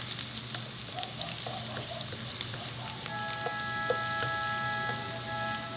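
Garlic hits a hot pan and fries with a dense, steady sizzle and crackle, close and continuous, with a few small clinks and stirring sounds over it.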